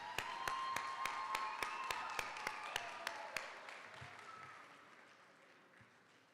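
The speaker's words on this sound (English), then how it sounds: "I would like to give her another round of applause." Audience applause at a CTM Academy graduation commencement: a dense wash of clapping with sharp, evenly spaced percussive hits over the first half, then gradually fading and thinning toward quiet.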